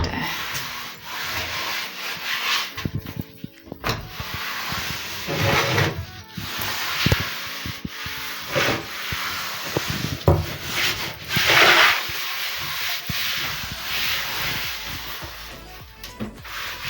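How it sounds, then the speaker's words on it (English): A cloth rubs and wipes across a high closet shelf in irregular close strokes, with a few bumps and brief pauses between passes. "we are going to just wipe it"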